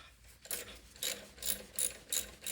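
A ratchet works an alternator bolt loose on a 2009-2013 Toyota Corolla, giving five bursts of rapid close clicking at a steady rhythm, each cluster separated by a short pause, with no talking.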